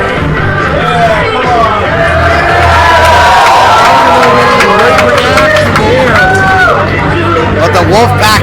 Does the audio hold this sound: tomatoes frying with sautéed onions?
no